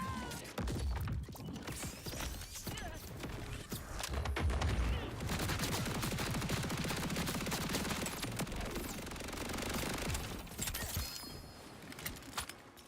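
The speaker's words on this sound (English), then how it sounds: "We'll use just the Rainmaker. Yeah, this gun is very fun to use" Rainmaker gun firing in a video game, dense rapid bursts of gunfire with mechanical clanks that run almost continuously and loud through the stretch.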